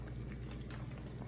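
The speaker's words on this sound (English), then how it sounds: "I heated some water in my kettle and I'm pouring that in" Hot water from a kettle poured into a soup pot in a kitchen, a short, quiet, steady rushing splash with no pause.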